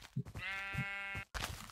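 A sheep in a video game gives a single drawn-out bleat, loud and close, with brief game noises just before and after it and no speech.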